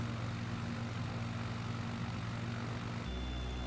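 Propeller aircraft engine in Microsoft Flight Simulator running steadily with a low droning hum and broad, rushing prop wash. The tone shifts slightly near the end.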